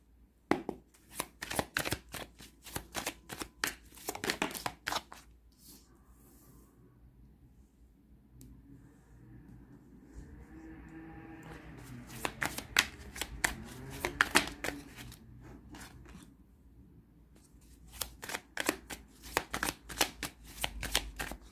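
Tarot cards are shuffled in quick riffling bursts, crisp flicking runs separated by quieter pauses with faint handling noise, close and moderately soft.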